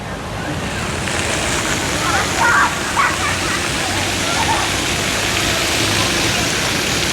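A water fountain in a Bangkok sky garden splashes in a steady, broadband wash of falling water that runs the whole time at moderate loudness, with a faint voice briefly heard over it.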